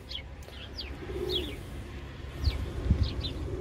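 Homing pigeons coo softly in a loft, low murmuring calls mixed with a few brief higher chirps, fairly quiet and close.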